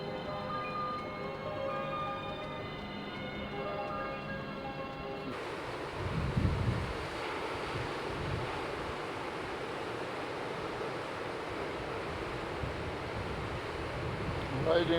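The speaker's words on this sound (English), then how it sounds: "Riding the waves at Noosa Heads." Ocean surf rolls and washes at Noosa Heads, a dense, steady roar of breaking waves with wind buffeting the microphone, following a brief stretch of faint tonal sound at the start.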